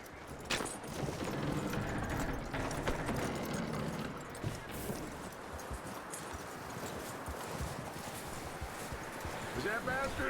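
Horse hooves clip-clop steadily in Red Dead Redemption 2 gameplay, a continuous rhythmic trot mixed into busy background game sound.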